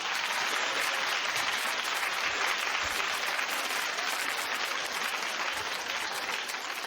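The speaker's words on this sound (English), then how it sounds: "So, clap if you think it's odd, audience." A television talk show studio audience claps in answer to the host, a dense, even roar of many hands that sustains loudly throughout.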